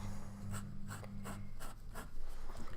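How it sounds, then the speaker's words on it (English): Platinum Century 3776 fountain pen with a stiff ultra extra fine nib writing on paper, a series of short, crisp scratchy strokes in quick rhythm, close and quiet, with no talking. "Let's write here, ultra extra fine."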